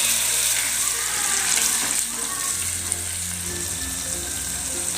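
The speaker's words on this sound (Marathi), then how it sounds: "तर पालकाची पेस्ट टाकते।" Spinach paste frying in hot oil with chilli and green chillies for dal palak, giving a steady loud sizzle with faint scraping and occasional clinks throughout.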